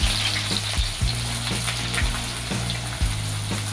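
Onion frying in hot oil in a kadhai gives a steady, close broadband sizzle, with faint low tonal hum and a few soft knocks underneath.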